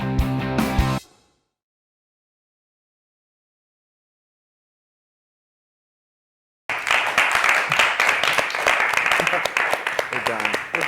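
Studio audience clapping on a talk show, a brief burst at the start that cuts to silence, then a dense, loud wash of applause returns and carries to the end.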